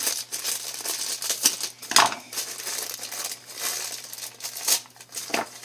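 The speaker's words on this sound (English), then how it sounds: "this one I'm going to need to use my scissors for." Crinkly plastic rustling and crunching with a few sharp scissor snips cutting vinyl mystery mini figure packaging, close up, no talking.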